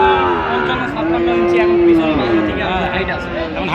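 Cattle low loudly and close by at a cow market in Joypurhat, a long sustained moo over crowd noise and someone talking.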